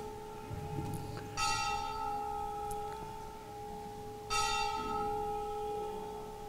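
Church bell ringing with two strikes about three seconds apart, each a bright metallic clang over a long sustained humming tone, moderately distant and without speech.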